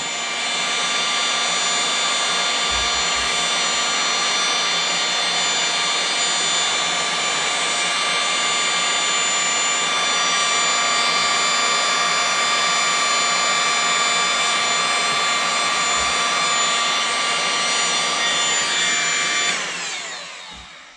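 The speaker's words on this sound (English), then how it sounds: "So be careful with the heat gun." A heat gun blows steadily while heating a vinyl decal on a car panel before removal. It makes a loud, constant whining roar with a fan hiss, sustained for about twenty seconds before it cuts off at the end.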